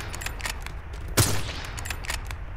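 Rapid gunfire in the sandbox game People Playground, with a string of quick evenly spaced shots and one louder hit near the middle, without speech.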